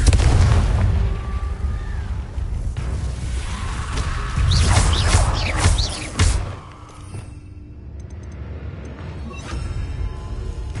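Repeated Confringo fire-blast spells in Hogwarts Legacy, loud crackling explosions with whooshing streaks layered over a rumbling low end, then a sharp final burst that trails off into quieter ambience.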